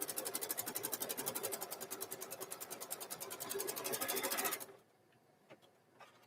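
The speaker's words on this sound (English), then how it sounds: "I think I'm going to raise my foot up a little bit and run that last stitch again" A sewing machine stitching a hoodie runs in a fast, even mechanical rattle for several seconds, then stops abruptly, leaving a few faint clicks.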